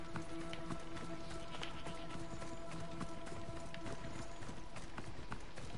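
A horse gallops in the video game Assassin's Creed Odyssey, its hooves beating in a fast continuous clip-clop over a dense, even bed of game ambience, with no pause for the whole stretch.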